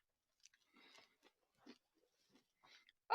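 Someone biting and chewing crunchy food outdoors in a forest, a handful of soft, scattered crunches with quiet pauses between them and a sharper crunch at the very end.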